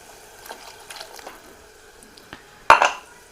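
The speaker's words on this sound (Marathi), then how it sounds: "आता हे मी पाणी वतणार ह्याच्यात" A few light metallic clinks of a pot and utensils, then a short splashing gush of water poured into a pot of amti curry near the end.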